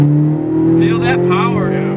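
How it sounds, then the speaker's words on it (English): A race car accelerates at full throttle on a Las Vegas track, its engine droning loud and steady with a rising pitch, while an instructor's voice talks over it. "Adding gas, full throttle."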